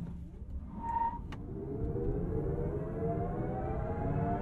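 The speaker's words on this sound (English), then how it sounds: "I'm going to hit the boost button, see a neat animation when I pin my foot on the throttle" A Genesis GV60 Performance electric SUV launching hard with boost engaged, a steady rising electric motor whine climbing in pitch over road and tyre rumble, continuous and close from inside the cabin.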